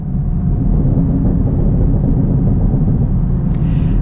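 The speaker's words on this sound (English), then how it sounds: "This car is worth it just based on the exhaust" A 2019 Chevy Camaro SS 1LE exhaust rumbles deeply and loudly at close range, a steady low throaty drone throughout with no talk.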